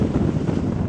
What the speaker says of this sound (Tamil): இன்னைக்கு நேற்றை விட காற்று கொஞ்சம் அதிகமாக கிடக்குதுங்க